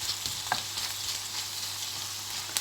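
Minced meat frying in a pan for a cauliflower dish, a steady close sizzle with a few stirring clicks and scrapes and no talking.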